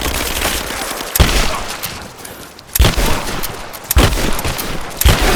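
Bursts of gunfire crack in Rise of the Tomb Raider during a stormy firefight, loud sharp volleys in separate clusters with a windy, rumbling background between them.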